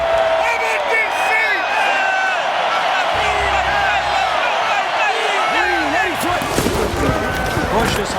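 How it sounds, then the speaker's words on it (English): Roaring stadium crowd at a New Orleans Saints NFL game, a loud sustained wall of cheering and whooping just after an early score, with a crackling surge of noise near the end. "just listen to this crowd"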